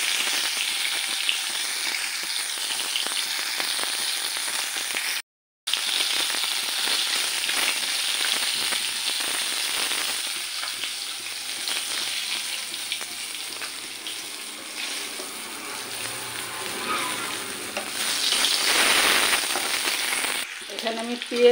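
Onion and cumin frying in hot oil in a pan, a long steady sizzle close by with one brief silent break and occasional scraping of a spoon, swelling a little near the end, no talk.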